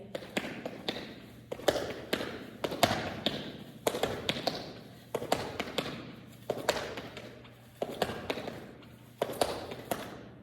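Patting juba body percussion: hand slaps and pats on the body in a steady, repeated rhythmic pattern, crisp close taps grouped in recurring phrases with no talking.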